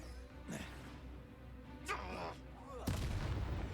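Confringo fire spell cast in Hogwarts Legacy, three sharp explosive bursts with crackling tails over a low game rumble, the last burst loudest and followed by sustained fiery roar.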